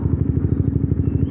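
A 2015 Honda CBR 150 K45 motorcycle engine idles nearby with a steady, rapid low-pitched pulsing thrum, loud and even, with no talking.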